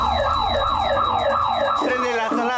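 A neighbourhood alarm siren wails loudly and continuously in a rapid rising-and-falling cycle, close by, with no talking over it.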